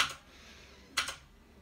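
Key presses on a Motospeed CK61 mechanical keyboard with blue switches: a sharp click near the start, then a quick double click about a second later, close and crisp against quiet room tone.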